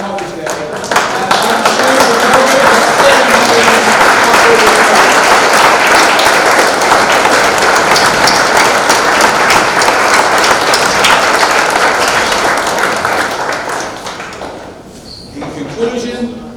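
A hall crowd at a sports hall of fame induction ceremony breaks into loud, dense sustained applause for the mothers, a continuous roar of clapping lasting over ten seconds before tapering off, with some voices mixed in.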